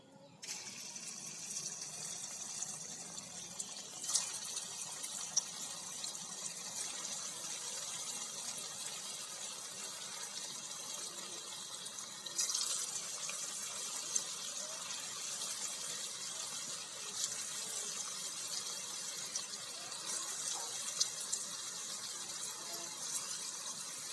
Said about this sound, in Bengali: তেল গরম হয়ে গেছে, এখন দিয়ে দিব